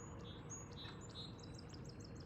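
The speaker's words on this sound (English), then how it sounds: "So you can hear the birds." Small birds chirp outdoors with short, high, repeated tweets, faint and at a distance. A steady background hiss of wind or water runs beneath them, and no one speaks.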